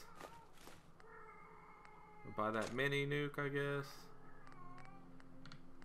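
A cat meows and caterwauls in the background indoors, a drawn-out wavering yowl following a few softer meows, while someone speaks over it nearby.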